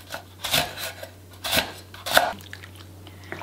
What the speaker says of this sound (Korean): 쫑쫑 썰어주세요.